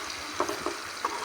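Chopped tomato softening in hot oil for a mutton curry: a steady, moderate sizzle with a few soft stirring scrapes and no voices.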